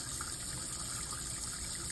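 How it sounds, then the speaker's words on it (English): Liquid solution pours steadily down a glass stir rod into a filter cup, a continuous close splashing gush with water running in a lab setting. "I'm going to pour this solution into the cup"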